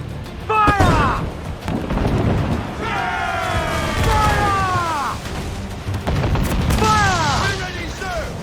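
Pirate ship cannons fire in the video game Assassin's Creed IV Black Flag, with heavy booming volleys rolling under loud shouting crew voices and continuous battle noise.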